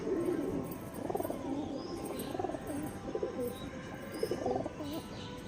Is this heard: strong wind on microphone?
no